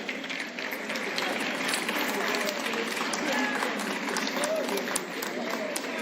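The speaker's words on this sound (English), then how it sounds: "you will hear them being greeted by the crowd" A crowd applauds election candidates as they come on stage at a count, sustained dense clapping throughout with voices mixed in.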